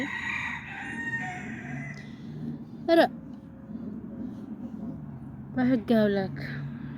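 A rooster crows twice at a household, first a short call and later a longer one, and chickens cluck faintly in between, all mixed with steady background noise.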